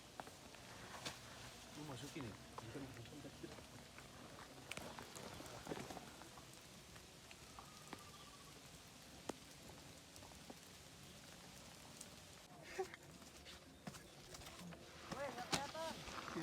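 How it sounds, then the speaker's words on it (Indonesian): Rain falls on a hiking trail on Mount Sindoro, a soft, steady patter with scattered drops and occasional louder knocks, while hikers talk quietly in the background. "Kena hujan"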